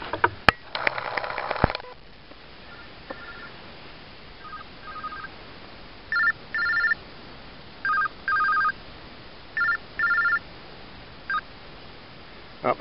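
A phone near an off-grid hilltop homestead rings outdoors in short repeated electronic tone bursts at a steady interval, following a few earlier dial-like beeps and rustling handling noise.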